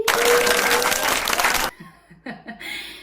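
A short burst of applause from a small group, loud for about a second and a half then cutting off abruptly, followed by quieter sounds and a few scattered noises.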